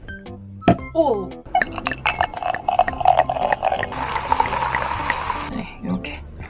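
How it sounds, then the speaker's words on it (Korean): A bottle of 7.5% apple cider is opened and poured into a glass, giving a burst of fizzy liquid splashing and gurgling with clinks, while a person speaks briefly over it. "사과주를 먼저 오픈을 하겠습니다"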